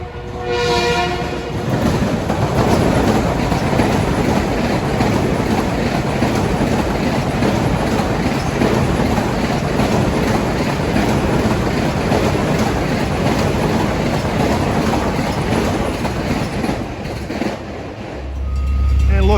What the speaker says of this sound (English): Next up at 8:02 is train 1629 from Huntington to New York with M9s.